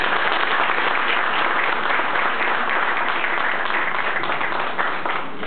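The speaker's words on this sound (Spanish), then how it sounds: "Le damos un fuerte aplauso, por favor." Loud, dense applause from an audience at a tribute ceremony, steady clapping that carries on without a break, with no voices above it.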